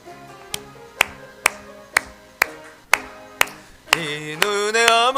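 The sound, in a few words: congregation clapping along to a hymn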